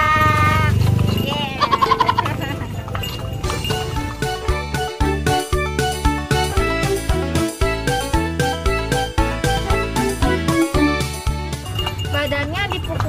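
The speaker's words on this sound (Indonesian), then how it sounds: "suara sepatu kuda" A delman horse cart on an outing, the horse's hooves clip-clopping in a steady, even rhythm of sharp knocks that carries on without a break, mixed with jingling bells and the brief sound of music at the start.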